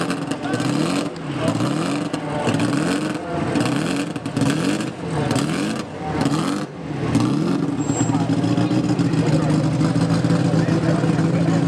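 A vintage racing car at the Brooklands Double Twelve Memorial revs its engine while standing still, a loud, close, pulsing roar rising and falling in repeated bursts before settling into a steady drone, with voices talking over it.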